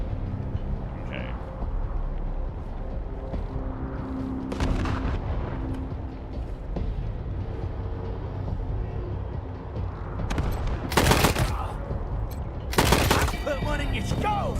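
Assault rifle fire in the post-apocalyptic game Wasteland 3 comes in a few loud, sharp bursts over a steady rumbling background, with a voice talking quietly underneath.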